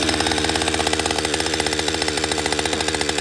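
A Husqvarna 562XP chainsaw runs at fast idle, giving a loud, rapid, even chugging pulse close by with no voices.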